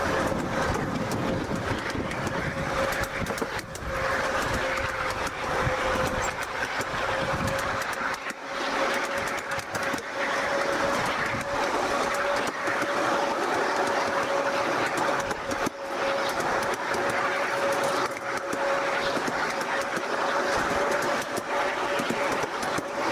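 A Hymek locomotive on a 5 inch gauge garden railway runs steadily along the track, with a continuous rumble of wheels on rails and a sustained tonal hum, close by and loud throughout.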